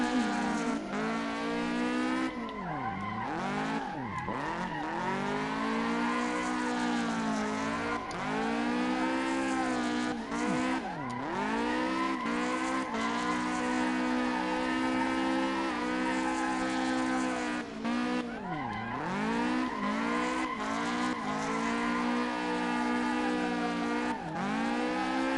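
A car drifting in the Assetto Corsa racing game: a continuous engine note rises and falls in repeated revving sweeps, with tire squeal under it, loud and sustained throughout.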